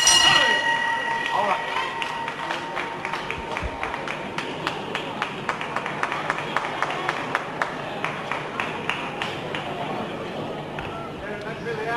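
A ringside bell clangs at the end of round two in a wrestling bout between Terry Rudge and Ray Steele, its bright ringing tone standing out early, then giving way to crowd noise, claps and a commentator talking.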